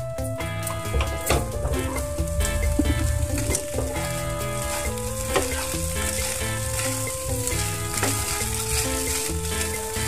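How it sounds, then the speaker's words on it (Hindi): Vegetable poha stirred and fried in a pan: a steady, loud sizzle runs throughout, with repeated spatula scrapes and taps layered on top and soft tonal background music underneath. "अब इसको हम अच्छे से मिक्स कर देंगे।"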